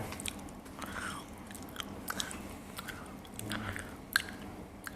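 Crunchy peanuts soaked in Coke being chewed up close, with repeated soft biting and crunching bursts over a steady low background and no talk.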